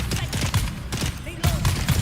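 Rapid gunfire in the Dune video game, a steady run of loud, close shots in quick succession throughout, with a brief faint voice mixed in.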